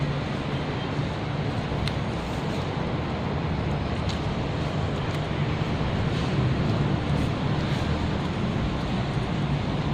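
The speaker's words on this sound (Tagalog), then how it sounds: "Mahangin." Steady wind buffets an outdoor microphone with a continuous low roar and rumble, unbroken and fairly loud across the whole stretch, and no voices come through.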